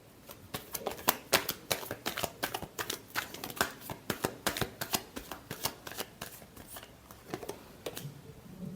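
A deck of tarot cards is shuffled close up, giving a long run of crisp, rapid riffling and slapping bursts in an uneven rhythm, with no talking.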